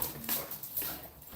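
Massive homestead dogs make faint, scrappy canine noises, a brief whimper-like sound amid rustling and background noise, with no talking.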